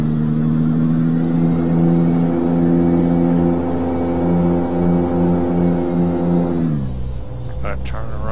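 A Peterbilt 389 truck engine in a driving game drones steadily in a low, harmonic rumble, then pitch drops as revs fall near the end, with a faint whine above.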